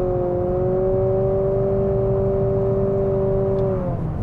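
A 2023 Nissan Altima SR Turbo engine at full throttle climbing uphill, one loud steady droning pull with a rising whine that holds for several seconds and then eases off near the end.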